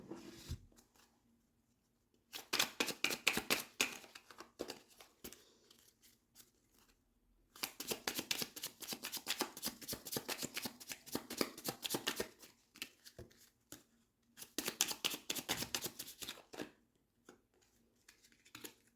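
Tarot cards shuffled and drawn by hand, with long bursts of rapid papery riffling and flicking separated by short quiet pauses, close and crisp with no talking.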